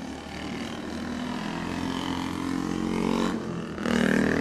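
A 1933 350cc Norton motorcycle runs on a parade lap of the Manx Grand Prix course, its engine a steady droning roar that swells as it nears.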